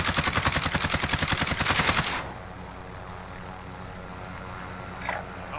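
Rapid automatic gunfire in a video game, a loud fast burst of shots for about two seconds that cuts off abruptly, leaving a low steady hum with a faint distant pop near the end.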